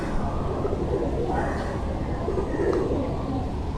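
Pakistani Teddy pigeons cooing in low, soft, repeated murmurs, close by and steady under a dense background hum.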